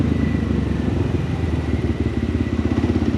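A motorcycle on a legal wheelie practice spot, its engine running hard in third gear with a loud, continuous pulsing rumble close to the rider, steady throughout without speech.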